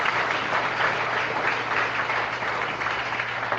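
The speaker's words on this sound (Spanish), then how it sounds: "Denle un aplauso al Señor." A church congregation applauds together in a dense, steady wash of clapping that holds at an even level throughout, with no voices rising above it.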